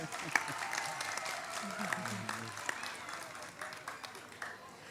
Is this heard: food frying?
no